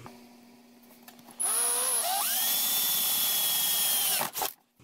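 A power drill bores a 3 mm hole into aluminum for a DIY algae turf scrubber LED light fixture, starting abruptly with a loud steady whine whose pitch dips then rises and holds for about three seconds before stopping.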